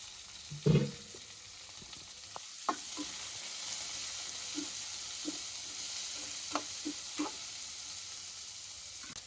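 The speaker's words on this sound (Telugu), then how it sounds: "అలానే కట్ చేసి పెట్టుకున్న ఆనియన్స్ని కూడా దీంట్లో వేసి ఫ్రై చేసుకుందాం." Green chillies, curry leaves and onions frying in oil, a steady hiss with a loud burst as ingredients hit the pan, followed by scattered spatula taps and stirring.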